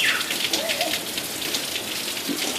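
Steady rain falls outdoors, a continuous broadband hiss of drops on surfaces, loud and close for the whole stretch, with a child's brief vocal sounds faintly underneath.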